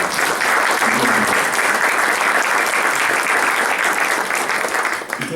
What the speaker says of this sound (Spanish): Quisiera darle un aplauso al profesor Samuel Navarro